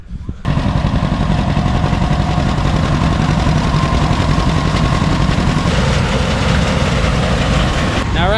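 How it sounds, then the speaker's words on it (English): A small combine harvester working a little wheat field runs steadily and loudly close by, its engine drone and mechanical rattle continuous throughout, with a brief tonal squeal at the end. "Now that right there is a small combine."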